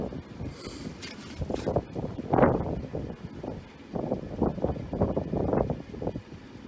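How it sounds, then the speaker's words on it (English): Loud, gusty wind buffeting the microphone beside Hidden Lake, Alaska, with rumbling low-frequency roar that surges and eases in waves throughout. "But that wind is just ripping right up and over me."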